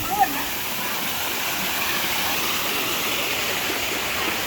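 Water pours steadily over Than Ngam Phu Foi Lom waterfall in Udon Thani, Thailand, a continuous broad rushing roar that stays even throughout, with a brief soft sound at the start.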